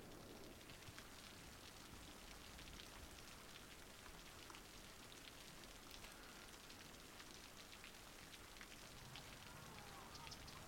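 Heavy rain pours down steadily in Cities: Skylines, a dense continuous hiss of a downpour drumming on surfaces, broad and unbroken for the whole stretch with no pauses.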